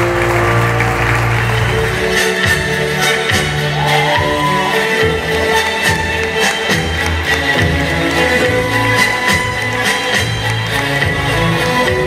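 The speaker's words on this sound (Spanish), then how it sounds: "Vamos a aplaudir" Guests at a quinceañera party applaud, a loud, sustained burst of clapping from a crowd with scattered shouts and cheers over thumping background party music.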